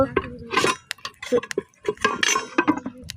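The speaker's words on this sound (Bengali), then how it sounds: "এবার একটা ঢাকনা দিয়ে ঢেকে দিব" A cooking pot being covered with its lid on a lit stove while kachki fish chochchori with potatoes and tomatoes cooks; a run of sharp clinks and clatters of pot and lid, close and fairly loud, over a few seconds.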